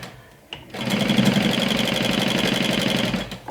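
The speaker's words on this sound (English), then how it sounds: "sew it down with a 1/2 inch seam allowance" A sewing machine stitches a seam with a 1/2 inch allowance, starting after a short click and running fast and steady at close range for about three seconds before stopping.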